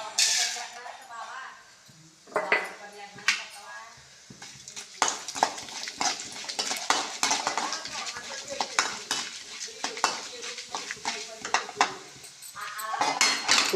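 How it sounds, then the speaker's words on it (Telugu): Tempering spices crackle and sizzle in hot oil in a pan for an okra fry, with steady frying noise broken by stirring scrapes and light clinks of a utensil against the pan, close by. "Oil heat ఎక్కిందండి. ఇప్పుడు తాలింపు వేసుకుందాం."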